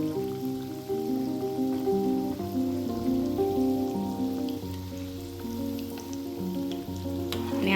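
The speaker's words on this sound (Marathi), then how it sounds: "वडा खालून तळून झाला की तो सुटतो आपोआप" Mixed-lentil vadas sizzle steadily in hot deep-frying oil, a continuous fine crackling hiss with a few sharper pops, heard alongside a sustained melodic backing throughout.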